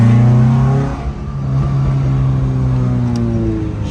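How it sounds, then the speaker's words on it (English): A Honda EF/DA car in second gear with a large exhaust leak, its engine droning loud and close with a steady low rumble whose pitch sweeps as it pulls, then eases slightly before picking back up. "Shit does have a fat ass exhaust leak"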